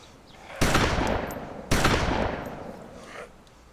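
Two heavy sawn-off shotgun blasts in DayZ Standalone, each a sharp loud crack that rings out and slowly decays, the second about a second after the first, with no voices over them.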